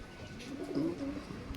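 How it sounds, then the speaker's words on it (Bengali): A domestic pigeon coos softly and close by, a short low throaty burble rising midway through, with no talk over it. "দেখুন পায়রাটা"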